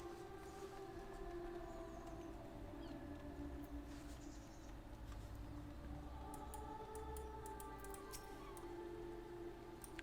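A siren wails in the Final Fantasy XIV video game, a faint steady tonal drone layered over low rumbling game ambience, with scattered soft ticks toward the end.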